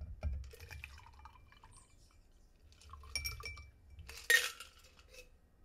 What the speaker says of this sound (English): So give us a couple stirs. Go ahead and strain that.